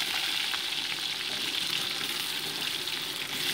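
Cut potato pieces sizzle in oil with whole cumin, a steady close frying hiss with faint stirring, continuous and without talk.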